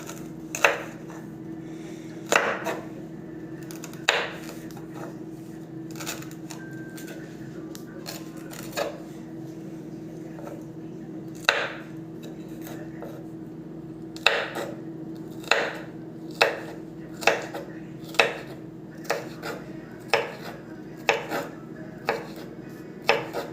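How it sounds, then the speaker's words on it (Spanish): A knife chops a bell pepper into a fine brunoise dice on a cutting board, sharp taps coming in irregular bursts that quicken into a steady rhythm toward the end, over a constant low background hum. "ahora vamos a realizar el corte brunoise en el pimiento."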